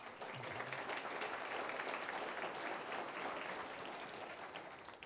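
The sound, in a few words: audience applause for a financial planner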